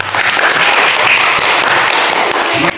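A classroom of students claps their hands together, a loud, dense burst of sustained applause that carries on without pause, then cuts off sharply at the end.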